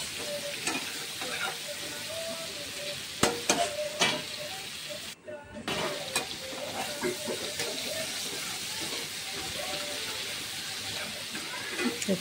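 Pumpkin and mixed vegetables for a five-spice kumro chorchori fry in oil with green chilli, a steady close sizzle broken by repeated scraping stirs of a spatula in the pan.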